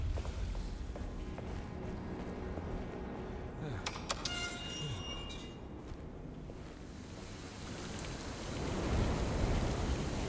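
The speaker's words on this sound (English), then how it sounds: "My goodness, love the rain." Rain falls in the video game Alone In The Dark, a steady, soft hiss of drops with faint splashes, moderately quiet, under some scattered background noises.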